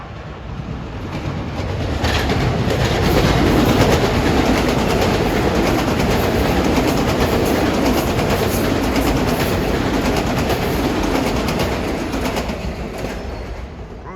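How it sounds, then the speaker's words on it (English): A Long Island Rail Road express commuter train rumbles past close by at Mineola, swelling to a steady roar with rhythmic wheel clatter and then slowly fading away. "Here comes 1617, an express from Huntington to Grand Central."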